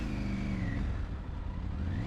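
A Triumph Tiger 900 Rally Pro motorcycle engine revs steadily on a test ride in India, a loud sustained drone with pitch shifting slightly up and down.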